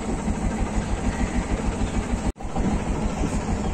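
A trawler boat engine running steadily as the vessel departs, a dense continuous rumble with a rhythmic chugging throb, close and loud with no voices.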